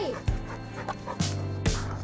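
A dog pants nearby with a few short, sharp breaths and faint whimpering sounds, against steady background noise.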